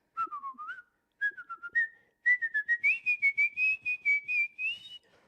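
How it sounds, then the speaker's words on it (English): A person whistles the Turkish rondo solo, a close, bright melody in quick phrases, with a short pause before a longer run of rapid notes. "I can whistle the Turkish rondo like nobody's business."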